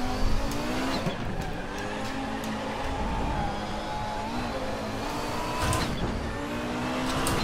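An Audi 90 IMSA GTO in R3E at the Nürburgring slides wide through a corner, engine droning steadily with tire squeal and skid noise layered over it throughout.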